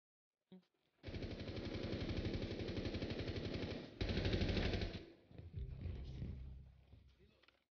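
Rapid automatic gunfire in Rainbow Six Siege, a long steady stream of close, loud shots with a brief heavier burst midway, trailing off into scattered shots and faint talk.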